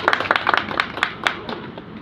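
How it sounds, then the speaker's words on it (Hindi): A scattering of audience members claps at a gathering welcoming a guest to the stage, with sharp, uneven hand claps that start brisk, then thin out and fade over a couple of seconds. "जोरदार तालियां भाई साहब के लिए"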